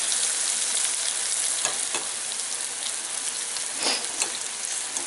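Hot Cheeto–coated potato cheese balls cook in an air fryer, a soft steady hiss with scattered light crackles and pops, fairly quiet, and no one talking.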